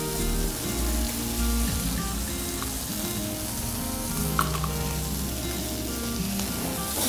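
Ground spices such as coriander, chili, turmeric, pepper and garam masala fry in a pan with a constant, even sizzle, with a few light stirring clicks over the hiss.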